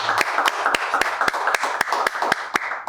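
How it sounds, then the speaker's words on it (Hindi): Lively applause from a gathered audience, with sharp, rhythmic hand claps standing out over a dense wash of clapping throughout. "आपकी ज़ोरदार तालियों में मैं अपने प्यारे भाई यासीन जोया को वेलकम और खुशामदीद कहता हूँ।"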